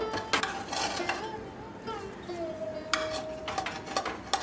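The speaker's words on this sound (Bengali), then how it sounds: "ছানা বা পনিরের সাথে ভালো করে এই মিল্ক পাউডারটা মিশিয়ে নেব" Chhana mixed with milk powder in a pan gives off scraping and clinking of a utensil against metal, steady and close, with a faint sizzle beneath and no talking.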